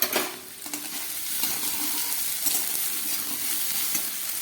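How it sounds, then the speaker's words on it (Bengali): Potato and onion frying in a pan with salt, turmeric and spices, a steady close sizzle with occasional stirring scrapes and a few pot clinks, no talking. "আলুটাকে এবার একটু ভেজে নেব।"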